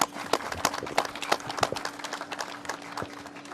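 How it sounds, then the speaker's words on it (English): A small group applauds at a COVID-19 press briefing, sparse, distinct claps scattered unevenly over a few seconds against a steady background hum. "And they deserve a round of applause."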